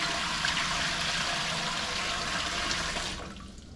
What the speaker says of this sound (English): All right, let's get a gallon of water in here.